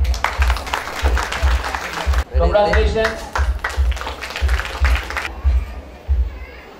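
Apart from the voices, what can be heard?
applause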